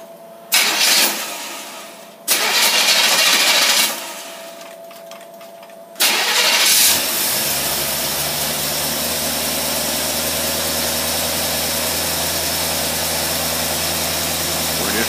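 A car engine fitted with a Holley race carburetor and hooked-up choke cranks in several loud bursts, then catches and settles into a steady, close, rumbling idle that runs on alone.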